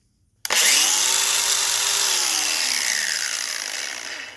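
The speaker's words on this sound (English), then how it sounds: "Here's the other grinder. 2 amp hour battery." A DeWalt DCG412 cordless 4.5-5 inch angle grinder on a 2 amp-hour battery starts abruptly, rises into a loud, high motor whine and keeps running close by. The tone falls slowly as the grinder winds down with no brake.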